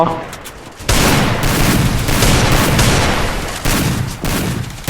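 Dense, loud burst of rapid gunfire from the Free Fire battle-royale game, sustained volleys with brief dips and renewed bursts over about five seconds, with a voice faintly mixed in.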